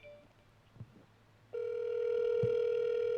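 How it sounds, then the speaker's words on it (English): A phone call's ringing tone starts partway through as a steady, loud electronic tone, after a quieter stretch of line noise. "It's ringing, so it's not me."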